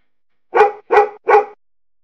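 Three punchy barks from a single dog come in a steady rhythm, near and loud, each one short and separated by brief gaps, with no voices present.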